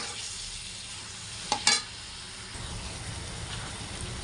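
Masala of red chili powder and turmeric fries in oil in a home kitchen, a soft, steady sizzle with a brief clatter of stirring partway through, faint and without any voice.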